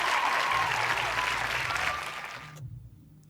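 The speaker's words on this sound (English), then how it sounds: "Shall we clap for them, please?" An audience at a primary school quiz contest between St Mary's R/C, Canadian R/C and African Faith applauds a team's score, a dense round of clapping that fades and cuts off abruptly near the end.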